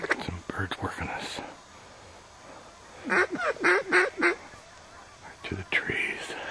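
Wild ducks quack in short bursts as they fly in over a duck hunt on the upper Columbia, the calls close and clustered, with a person whispering amid them.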